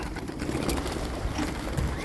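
Pigeons coo softly amid a dense, noisy background of rustling and murmur, the calls low and partly buried.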